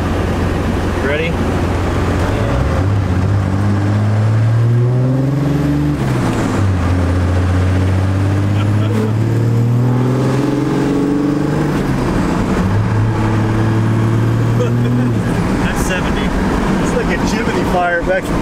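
A 450hp 12V Cummins diesel truck with a 5-speed manual makes a 30 to 70 mph pull, its loud engine droning and rising in pitch through several gears with dips between shifts, while people talk over the noise.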